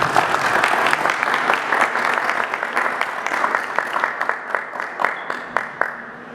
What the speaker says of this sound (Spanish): autor, Gustavo Javier Hernández de la Peña, para quien pido un fuerte aplauso.